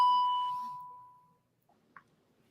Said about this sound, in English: I heard the bell there.